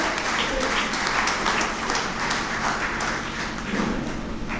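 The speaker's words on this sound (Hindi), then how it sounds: "एक बार दिल खोल के तालियां बजाओ" An audience at a poetry gathering applauds steadily, a dense wash of clapping that holds at an even level from start to finish.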